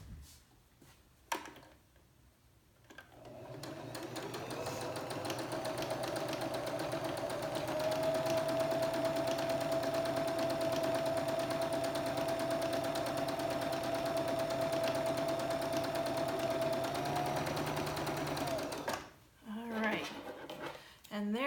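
Sewing machine stitching a long seam on quilt strips, a steady close whirring hum running for about fifteen seconds, with brief handling noises before and after and speech in the clip.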